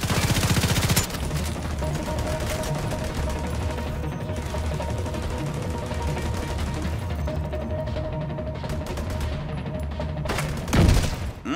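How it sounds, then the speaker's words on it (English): Sustained gunfire and explosive rocket launcher blasts in a co-op firefight at the Lincoln Memorial in the video game The Division 2, dense and loud throughout with a heavy boom near the end. "Oh, here we go. With the rocket launchers."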